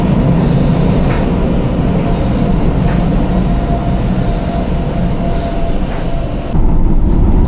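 A train rumbles loudly and steadily as it rolls into a station, with a faint metallic wheel squeal riding over the heavy low drone.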